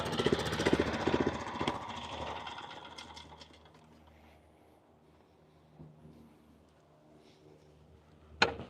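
A lawn mower engine runs loud and steady, then winds down and dies away to near quiet, with a sharp click near the end.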